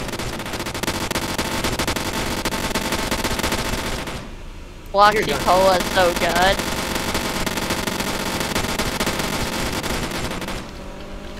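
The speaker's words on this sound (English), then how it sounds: "Does anyone hear gunshots?" Bursts of rapid gunfire ring out in an online roleplay game set in Dallas County, a continuous crackle of automatic shots with a short pause midway, while a voice speaks briefly over it.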